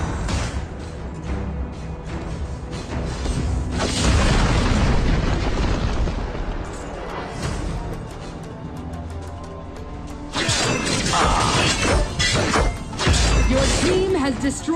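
A tower collapses in a loud burst of shattering booms and crashing debris during a ROV (Arena of Valor) match, with a game announcer's voice over the chaotic battle sounds.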